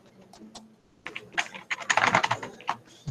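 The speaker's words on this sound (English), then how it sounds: "I'll just type here NDVI" Fingers tap a computer keyboard in short bursts of quick, close clicks, sparse at first, then a denser flurry of keystrokes.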